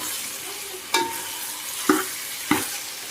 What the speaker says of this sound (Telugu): సో ఒకసారి చక్కగా కలిపేసుకోండి, పసుపు అంతా కలిసేలా